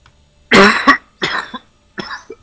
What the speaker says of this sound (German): Auch nicht husten!